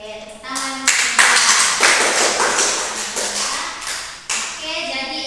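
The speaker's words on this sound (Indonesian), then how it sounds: "Oke, tepuk tangan." A classroom of students applauds together, a dense burst of clapping that swells, holds for a few seconds and fades, with a brief voice before and a renewed clap near the end.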